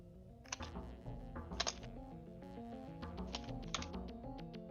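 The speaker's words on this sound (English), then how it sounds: "I hear Silent typing, so I guess he's back" Typing on a computer keyboard comes through as quiet, irregular clusters of sharp key clicks, fairly faint and close, with no talking.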